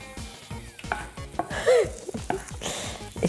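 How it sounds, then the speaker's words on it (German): Tofu fries in a pan on a stovetop while a utensil stirs it, giving steady sizzling with repeated scraping and clinking against the pan. The food is starting to burn. "Ich hol das erstmal raus, das verbrennt hier immer mehr in der Pfanne."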